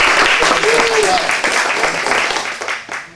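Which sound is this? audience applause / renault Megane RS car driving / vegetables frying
audience applause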